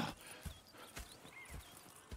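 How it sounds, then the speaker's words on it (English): Horses in the video game Red Dead Redemption 2 clip-clop nearby in an uneven walking rhythm, with a soft whinny and light ambient chirps behind the hoofbeats. "Go check the horses are ready."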